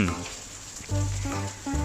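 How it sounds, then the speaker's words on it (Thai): Thai fried rice with grilled pork being stir-fried in a hot pan, giving a steady close sizzle with a few bursts of scraping and tossing, no voices. "ทำการผัดคลุกเคล้าให้เข้ากัน"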